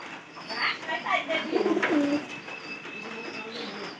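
Pigeons kept indoors in a loft during rain give low, repeated coos alongside some brighter bird calls, fairly close and continuous over a steady background hum.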